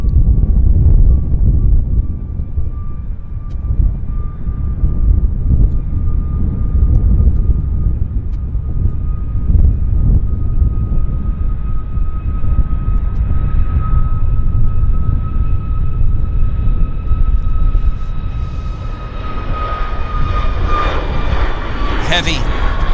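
A Lynx airliner's engines roar steadily on its takeoff roll at Vancouver airport, a loud sustained rumble with a whining tone that rises near the end, while a person talks over it.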